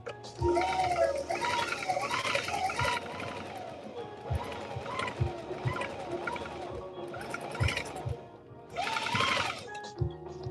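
A sewing machine runs in short bursts of rapid stitching with pauses between, close by, while a voice talks intermittently and music plays in the background.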